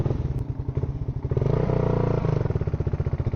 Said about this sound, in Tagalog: Rider FI yung gamit natin ngayon. At napaka-aggressive tong motor na ito.